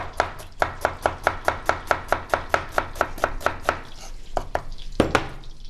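A knife chops onion rapidly on a cutting board, a quick steady run of sharp knocks that slows and ends with a few scattered taps.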